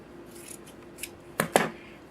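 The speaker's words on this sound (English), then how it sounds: "I'm just going to simply cut it in half." Scissors cutting a fabric sash in half, a few crisp close snips, the two loudest near the end, over a faint quiet room.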